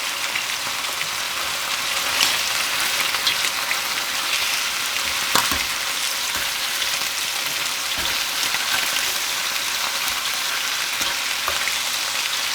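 Chicken pieces browning in a hot pan for chicken adobo give a steady, loud sizzle and crackle throughout, with occasional sharper pops and no talking.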